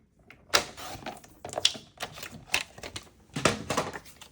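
Paper being trimmed for a handmade greeting card with a sliding rotary trimmer, giving several rough scraping and clacking strokes in irregular bursts, close up and fairly quiet, with no speech.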